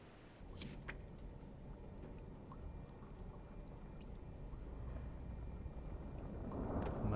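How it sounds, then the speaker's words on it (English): A ship engine drones steadily in the Silent Hunter 3 submarine game, with a low rumbling wash like water or wind that builds slowly in loudness. "I heard an engine."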